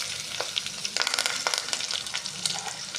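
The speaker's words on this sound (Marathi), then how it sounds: "हिरवी मिरची उभा चिरून, दोन ते तीन हिरव्या मिरच्या द्यायचे, त्यातच उभा चिरलेला कांदा" Green chilies slit lengthwise and sliced onion frying in oil for tomato rice, giving a dense, close sizzle peppered with sharp crackles and pops throughout.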